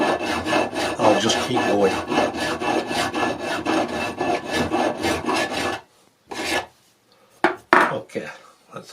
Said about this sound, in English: I might have pushed it down a bit while I'm filing.